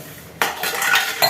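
Steel dishes, pots and cutlery are washed in a kitchen, with sudden close clinks and clatters after a quiet start and another sharp knock near the end.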